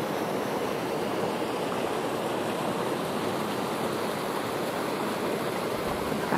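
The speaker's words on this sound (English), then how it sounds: "Got the stream that goes along here." A stream flows steadily past a campground in Zion National Park, a continuous broadband rush of water that stays even and close throughout with no voices.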